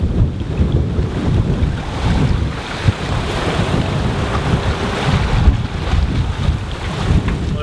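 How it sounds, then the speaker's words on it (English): Sailboat La Vagabonde under way at sea, with steady wind buffeting the microphone and the rush of water and waves along the hull, loud and continuous throughout. "doing a bit of sailing now"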